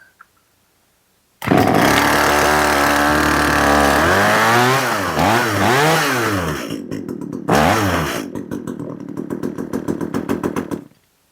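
An Echo CS 370 chainsaw engine catches and roars loudly after a brief silence, its pitch climbing and swooping through several revs, cutting out for a moment and restarting, then settling into a sputtering, pulsing idle.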